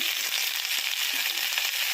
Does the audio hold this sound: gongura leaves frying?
yes